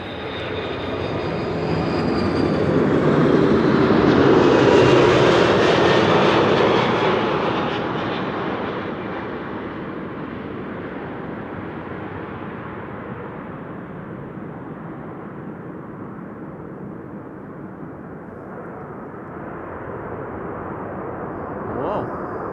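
A passing airplane at Amsterdam Schiphol Airport on a frosty morning, a broad engine roar swelling to a peak early on and then fading slowly into a long, steady rumble as it moves away.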